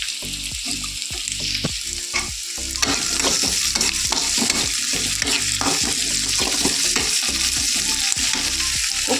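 Chopped onion and potato frying in oil in a pan, a steady loud sizzle with repeated scraping and stirring clatter of a spoon against the pan throughout.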